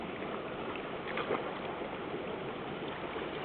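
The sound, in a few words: water running from a tap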